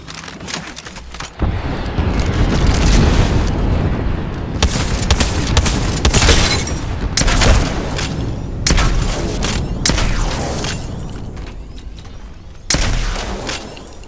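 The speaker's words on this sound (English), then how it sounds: "Signaling an airstrike." Airstrike in the Apex Legends video game: a sustained barrage of heavy booming explosions and rapid blasts, loud and dense, with brief pauses between bursts.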